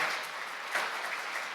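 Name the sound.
applause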